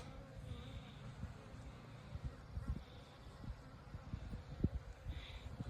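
Honeybees buzz around beehives at dusk as colonies settle in an apiary, a faint, steady low hum with scattered soft bumps and no voices.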